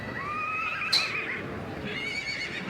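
At a Welsh agricultural show's main ring, a horse gives a loud, wavering whinny partway through, with general crowd ambience behind it and a fainter answering neigh afterward.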